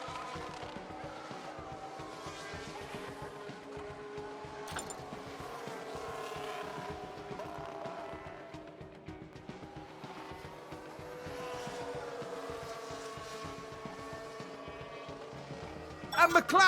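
Race car engines drone through a replay of a spin involving the Aston Martin in F1 Manager 22, with commentary running over the steady engine noise for most of the stretch.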